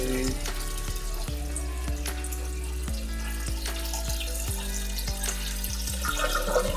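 Water pours steadily into a 120 cm goldfish aquarium during its setup after a leak repair, a constant close splashing rush with irregular drips and gurgles layered on top.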